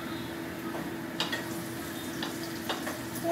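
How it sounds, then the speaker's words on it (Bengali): Paneer cubes sizzle lightly in hot oil in a pan for chilli paneer, a steady close frying hiss broken by a few sharp stirring clicks. "পনিরটা আমি বেশি কড়া করে ভাজবো না, হালকা করে ভেজে নেব।"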